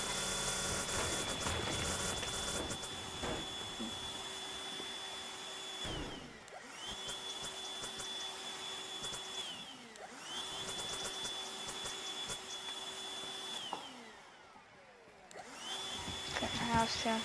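A video-game vacuum cleaner in Teardown drones loudly and steadily, stopping briefly and restarting several times, while a person talks over it.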